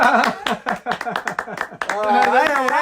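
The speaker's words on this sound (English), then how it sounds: "It just sounds like two people laughing and clapping in the background" A laugh track of bursty, rhythmic laughter mixed with scattered clapping plays close and loud, with voices talking over it.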